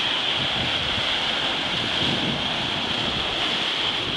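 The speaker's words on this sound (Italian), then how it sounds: "Vento da sud-ovest teso, Andrea" Strong southwest wind blows across open sea in a constant, loud rush, mixed with the wash of waves and buffeting against the microphone.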